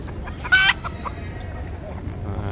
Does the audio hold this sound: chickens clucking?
yes